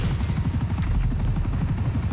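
Helicopter in the video game GTA Online: a fast, continuous rotor chop throbs steadily throughout, fairly loud and close, with no talk over it.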